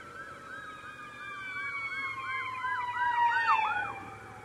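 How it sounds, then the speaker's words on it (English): Ambulance sirens pass through traffic, heard from a motorcycle commute: a steady wailing up-and-down sweep that grows louder toward the end over a low road rumble. "We got some ambulances coming through."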